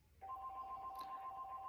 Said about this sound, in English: So you can hear the phone in the background ringing.